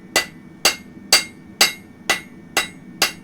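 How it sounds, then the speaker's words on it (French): A blacksmith's hammer strikes hot iron on an anvil while drawing out a horseshoe, seven sharp ringing blows spaced evenly about half a second apart, close and loud with no talking. "je vais étirer gentiment mon interne en suivant mes coups de marteau"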